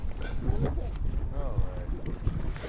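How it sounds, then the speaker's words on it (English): Wind buffeting a microphone on the River Ancholme during inflatable kayaking, a constant low rumbling gust noise close up with a voice talking over it. "now I'm getting caught by the wind"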